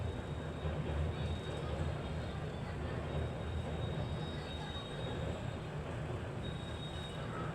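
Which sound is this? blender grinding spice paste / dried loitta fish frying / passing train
passing train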